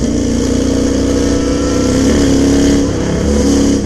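A Honda Hornet motorcycle engine roars steadily and loudly throughout, a continuous rumbling drone heard from the road.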